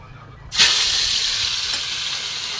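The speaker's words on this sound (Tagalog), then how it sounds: "Prito na natin." Tilapia goes into hot oil in a pan: after a brief quiet start, a loud sudden sizzle erupts and settles into a steady, close frying hiss.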